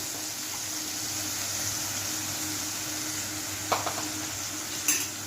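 Ginger paste sizzles softly in a pan with spices while being stirred, a quiet steady frying hiss broken by a couple of brief scraping clinks of the spoon near the end.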